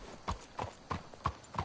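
Horses clip-clopping at a steady trot in Red Dead Redemption 2, five distinct hoof beats spaced evenly over a quiet background.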